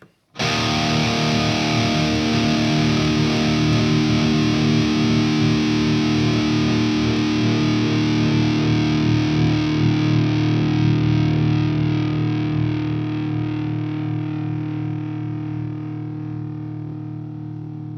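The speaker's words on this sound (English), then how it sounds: "I'm just gonna play a long sustained note, and then we're gonna hear what the noise gate is doing." A heavily distorted metal electric guitar through a Lichtlaerm Audio Key & Gate noise gate holds one long sustained note that drones loudly and evenly, then slowly fades before being cut off.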